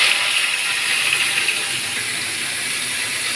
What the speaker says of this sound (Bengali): তেল দিয়ে দিয়েছি, এবার ডাঁটাগুলো ভেজে নেবো একটু হালকা করে